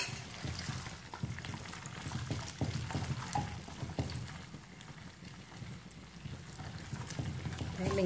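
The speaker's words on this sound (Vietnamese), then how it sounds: "Khi mình đã ướp được 30 phút thì các bạn sẽ cho lòng vào để mình chiên lên." Marinated pork intestines frying in hot cooking oil, a continuous close sizzle and bubbling crackle that runs steadily throughout.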